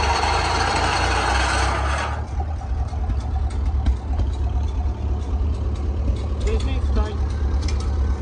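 A tractor engine runs at a steady idle on a hay farm, a low continuous rumble close by, with a louder burst at the start and scattered voices and clanks over the top.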